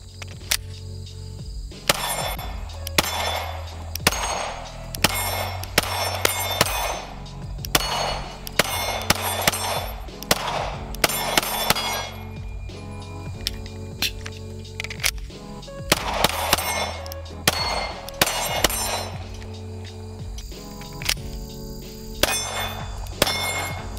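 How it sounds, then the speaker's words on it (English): Repeated shots from a CZ P10C pistol during a range session, sharp cracks in quick strings and pauses with metallic clangs ringing after many shots, loud and close, with no talking. "So let's keep shooting the P10c."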